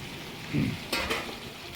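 Chicken with chopped whole-spice paste in a pan, stirred by spatula: a soft low scrape followed by two brief brighter sizzling scrapes over a quiet background.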